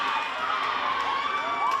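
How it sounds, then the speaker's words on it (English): A crowd at a schoolgirl rugby league grand final raises a sustained mixed cheer and shouting of young voices, moderately distant and continuous for a short stretch. "the crowd just starting to find their voice here off the back of that run"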